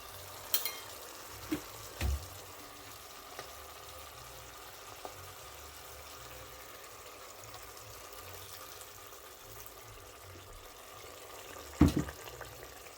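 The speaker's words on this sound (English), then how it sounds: "I'm also gonna add a little bit of water from the kettle." Water pours steadily from a kettle into a pot of Jamaican fish stew with a soft, continuous hiss, punctuated by a few sharp clinks; no one speaks.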